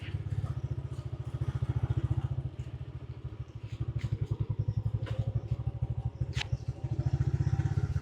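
Close motorcycle engine chugging in a rapid, steady beat as the bike works through sandy ground on a Jaffna island village track, swelling and easing slightly while scattered clicks and rattles come through.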